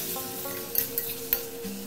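Fried pointed gourd going into sizzling masala in a pan for potol paneer, a steady oily sizzle with a few quick clinks of a spoon against the pan.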